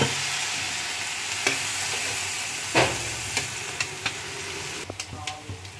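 Water poured into a pan of winter vegetables and small kachki fish, set off by a sizzling hiss with a sharp burst of steam, followed by scattered clinks and scrapes of stirring at close range.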